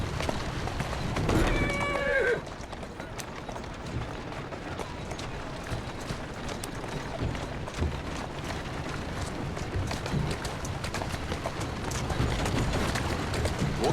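Rhythmic hoofbeats of a galloping carriage horse in Assassin's Creed Syndicate run under constant rumbling motion, with a short whinny-like cry early on.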